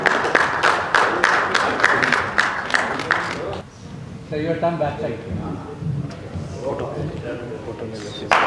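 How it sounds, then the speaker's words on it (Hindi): Loud, dense applause from an audience at a celebrity cricket league jersey launch event, a rapid clatter of many hands for several seconds before it breaks off and a voice talks over a lingering murmur. "इस इनिशिएटिव के लिए फिर से जोरदार तालियां हो जाए"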